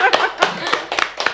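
Close, loud hand claps ring out in a quick, even rhythm during a podcast conversation about a housing estate, about five sharp claps in just over a second, with voices faintly mixed in.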